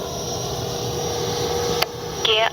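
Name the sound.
Freewing Avanti S 80mm RC jet taking off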